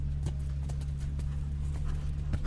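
A horse canters through dressage work at a junior eventing championship, its hooves striking in a steady, rhythmic clip-clop over a constant low hum.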